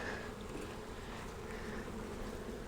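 Honey bees in an opened hive full of capped honey frames fill the air with a dense, steady buzzing hum, close and continuous with no pauses.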